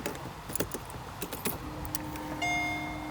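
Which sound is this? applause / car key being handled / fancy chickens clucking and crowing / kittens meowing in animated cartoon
car key being handled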